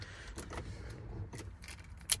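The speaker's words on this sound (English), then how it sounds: "So you want to put the keys in." Keys jangle in short metallic bursts while being fitted into the ignition of a 2006 Toyota 4Runner, ending with a sharp click, close up and quiet.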